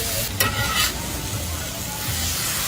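Birria meat charring on a Blackstone griddle, a steady crackling sizzle running throughout with a couple of brief sharper scrapes near the start.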